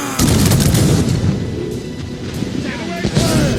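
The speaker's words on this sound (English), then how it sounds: "Man the cannons!" Ship cannons fire in a naval battle in the video game Assassin's Creed Rogue, heavy booming blasts rolling under voices and game music, with a fresh burst near the end.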